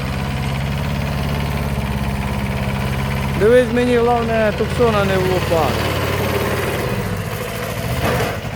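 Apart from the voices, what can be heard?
Kubota B5001 mini tractor engine idling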